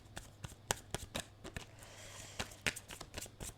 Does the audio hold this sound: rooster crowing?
no